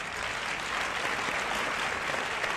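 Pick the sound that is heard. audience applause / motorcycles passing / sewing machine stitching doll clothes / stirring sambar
audience applause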